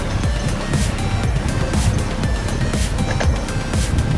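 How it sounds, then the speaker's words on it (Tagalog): A car driving close behind a scooter on a road in Jeddah, a steady broadband road and engine rumble with wind noise that holds even and loud throughout, with no voices. "May sasakyan sa likod natin."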